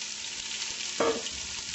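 Onion, celery and carrots hitting a hot pan, a brief close sizzle and a soft clatter that swells for a moment over a steady frying hiss.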